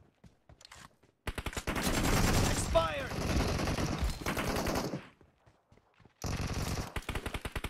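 Automatic AKM fire in the video game PUBG Mobile, long rapid bursts of shots with a gap between them, loud and close, with a brief voice in between.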